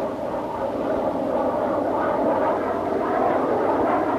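A McDonnell F2H Banshee, a 1948 US Navy jet fighter, on a test flight, giving a steady, unbroken jet roar that holds at an even loudness throughout with no voices.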